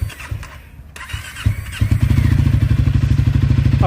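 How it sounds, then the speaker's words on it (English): A 2024 Triumph Scrambler 400 X motorcycle cranks briefly and fires up, its single-cylinder engine settling into a loud, steady close-range idle with a rhythmic, throbbing beat. "As I just start the bike up"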